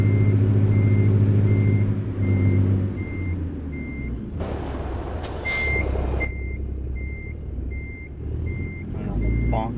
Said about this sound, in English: let's keep backing up for a second here